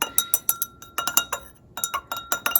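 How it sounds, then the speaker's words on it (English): Quick bright clinks of a utensil tapping against a glass beaker of distilled water, repeated in irregular bursts with a short pause midway, close and crisp. "Stir it gently"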